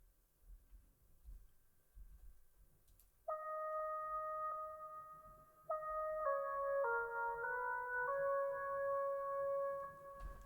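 A synth lead layer taken from a Triton sample plays a bright, clean melodic pattern of sustained tones in a rising step sequence, entering after a few seconds of faint noise and staying moderately quiet.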